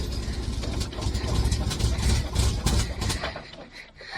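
A cold VW Fastback with carburetors and no chokes idles just after a cold start, a low, slightly uneven engine rumble at moderate level with no talk.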